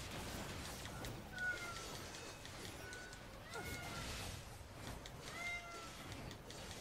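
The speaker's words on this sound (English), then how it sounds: "he doesn't start meowing until I start streaming" A loud male house cat meows repeatedly in short rising calls, indoors over a steady background of game audio, with the cries spaced a second or two apart.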